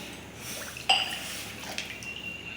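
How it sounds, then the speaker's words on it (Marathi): Water is poured into a hot kadhai on a gas stove, giving a quiet splash and a brief hiss, followed by a faint fizzing that trails off. "आता आपण त्यामध्ये पाणी घालून घ्यायचं आहे"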